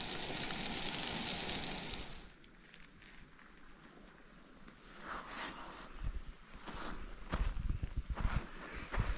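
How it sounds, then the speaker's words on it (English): Strips of sirloin steak fry on a camp stove at a wild camp by a remote Scottish loch. A loud, steady sizzling hiss opens, then drops to a quieter crackle broken by scattered pops and knocks. "Steak, doing strips of sirloin steak."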